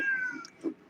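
A house cat meows once, close and clear, a short tonal cry that rises and fades, followed by a softer second vocal burst, with no talking.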